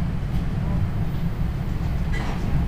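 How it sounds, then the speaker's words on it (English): Steady low rumble of a moving train heard from inside a carriage, constant and fairly loud throughout with no clear clacks. "I'm currently on the train."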